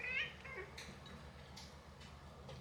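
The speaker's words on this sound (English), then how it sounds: "My old man kitty Luigi has come to say hello." An old male cat gives a short faint meow at the start, followed by soft scattered ticking and rustling in a quiet room.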